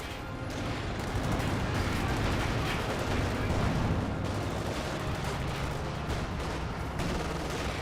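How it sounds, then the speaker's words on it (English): Battle sounds from Company of Heroes 2 during a fragmentation grenade explosion: a dense, loud, continuous wash of bursts and gunfire-like blasts that runs steadily throughout. "Good fragmentation grenade there."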